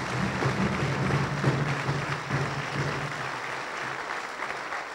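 Sustained crowd applause fills a political campaign launch rally, a dense, even wash of many hands clapping at moderate distance with a low hum beneath, steady for several seconds.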